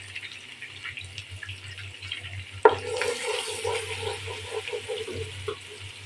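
Chopped onions hit hot oil for beresta in a tehari recipe. After a quiet stretch a sudden sizzle bursts out, followed by continuous bubbling frying and occasional stirring.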